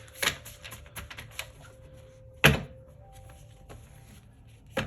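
A deck of tarot cards is shuffled by hand at close range, giving sharp riffling bursts and soft taps spread unevenly across a quiet room.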